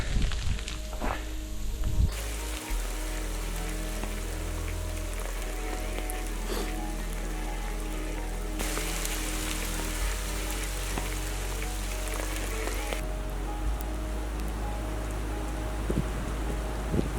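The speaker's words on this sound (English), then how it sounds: "I believe this is hail." Hail mixed with freezing rain patters steadily on surfaces outdoors in Gila County, Arizona, a dense continuous hiss of impacts with a few louder close hits, alone without talk.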